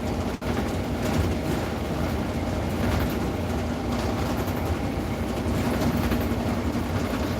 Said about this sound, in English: I think the noise you are hearing is the shaking of the plexiglass door and closing the door